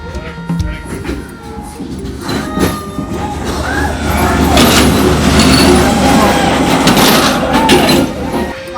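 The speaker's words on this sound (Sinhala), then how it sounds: "දැන් ගියේ 7 ට්‍රේන් එක." A train rolls through the narrow, house-lined Hanoi Train Street at the seven o'clock run, with a low rumble that swells and grows louder and nearer, threaded with metallic squeals and clatter.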